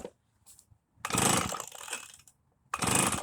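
A small lawn-equipment engine, drained of gas, is pull-started on choke. Two loud, rough bursts of cranking noise come about a second and a half apart, separated by quiet, and the engine never catches.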